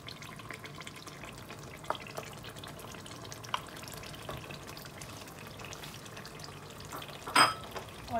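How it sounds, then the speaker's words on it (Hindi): Beef karahi frying in a pan with yogurt being cooked down, a low steady sizzle and bubbling with occasional scraping stirs and one louder clatter near the end. "मैं इसकी अच्छे तरीके से भुनाई कर रही हूँ।"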